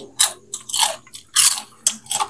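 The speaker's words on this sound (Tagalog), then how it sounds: "Malutong yung chicharon." Loud, close crunching on crispy chicharon pork rinds during a cemetery birthday mukbang, five sharp crackling bites in quick succession with no talk over them.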